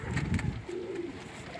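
Young homing pigeons coo softly and briefly nearby, a low throaty call over faint background noise.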